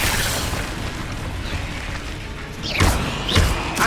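Two heavy, booming fire-spell blasts from Incendio in Hogwarts Legacy land near the end, each a loud close burst over a dense, noisy game background, with no talk.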